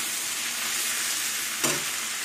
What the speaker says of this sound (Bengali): এবার ডাঁটা, আলু, চিংড়ি মাছ দিয়ে আবার কিছুক্ষণ ভেজে নেব।